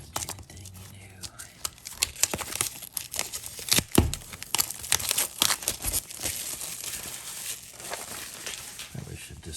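Plastic wrapping being cut and peeled off a packaged album book, with close crinkling, tearing and rustling bursts continuing through the whole stretch and a few sharper crackles.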